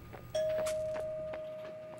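A single clean doorbell chime sounds in Human Fall Flat, one sustained ding ringing out and slowly fading over quiet background.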